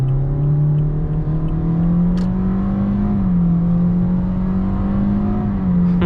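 A 2017 Toyota Corolla iM's 1.8-liter four-cylinder works hard under acceleration, a steady droning engine note climbing gradually in pitch with brief dips at shifts, heard from inside the cabin with tire and wind noise beneath.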